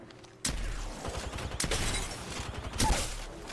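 Rapid gunfire from the Apex Legends video game, with a dense, sustained burst of shots and impacts followed by a second loud volley near the end.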